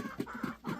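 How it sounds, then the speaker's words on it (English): Short clucking from a rooster among a flock of backyard chickens, three close low pulses in under a second with faint background noise. "And of course, that one right there is a rooster."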